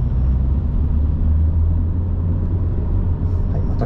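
An Alfa Romeo 147 2.0 TS engine accelerates in second gear with a loud, steady low rumble heard from inside the car, with no speech.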